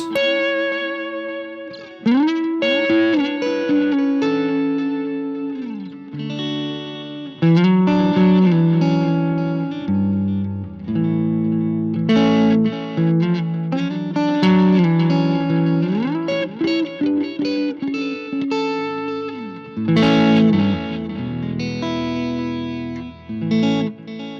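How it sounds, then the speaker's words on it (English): An electric guitar runs through a BOSS pedalboard with a long delay effect, with melodic phrases and sustained notes echoing and trailing off behind each other in a continuous, layered wash. "while you've got the quiet amp on, the long delay still works."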